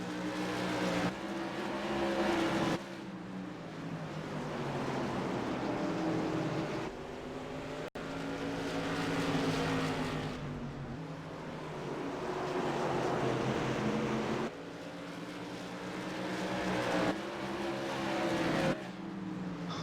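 AMA Modified Series race cars roar around the Concord oval in a 75-lap event, engines droning loud and continuous with swells and dips as the field passes, plus a sharp click partway through.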